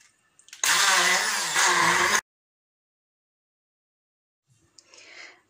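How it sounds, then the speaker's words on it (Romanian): A blender purées carrot pulp left over from juicing for homemade pasta dough, running loud and steady for about a second and a half before stopping, then a short, fainter burst follows near the end. "pentru început voi omogeniza compoziția cu blenderul și apoi voi introduce făina"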